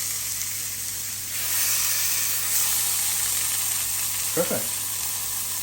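Roast beef sears in a hot cast iron pan with a steady, loud sizzle and hiss that runs throughout, and a single word is spoken briefly near the end.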